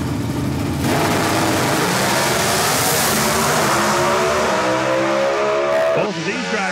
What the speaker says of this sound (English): Lining up on the starting line here, taking aim at Cameron Caruso